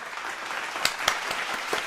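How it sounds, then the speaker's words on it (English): A soft golf clap, a few scattered hand claps close by and fairly quiet, lasting under two seconds. "We need the golf clap."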